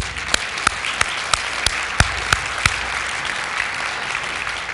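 An audience claps for exchange guests from Norway at a church gathering in Minnesota, with steady applause and a few sharper, louder claps standing out, and no talk.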